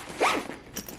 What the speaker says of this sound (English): let's see if we can zip it up